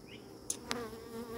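Honey bees buzz in a steady, close drone over hive frames during a hive inspection, with a couple of sharp faint clicks partway through.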